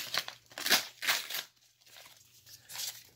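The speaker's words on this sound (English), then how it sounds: "I'm gonna cut it open here with my little detail scissors here." Small detail scissors snip through a paper envelope in a few close, crisp cutting and crinkling bursts, separated by short pauses.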